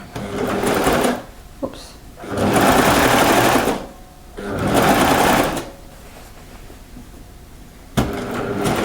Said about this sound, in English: I'm going to sew off on this corner.